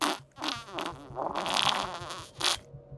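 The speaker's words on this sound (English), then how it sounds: "here's fart number one" A fart sound effect plays loud and close, a long wet, buzzing, sputtering blast with uneven rhythm and a couple of sharper bursts before it cuts off.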